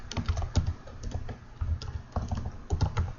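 Fingers type on a computer keyboard in irregular bursts of clicking keystrokes with short pauses between words. The sound is close and moderately quiet, with no one speaking.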